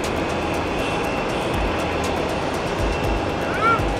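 An airplane engine drones at an airport as the aircraft starts up, a broad steady roar at moderate distance with a faint rising whine near the end.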